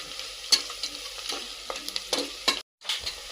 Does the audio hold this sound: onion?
yes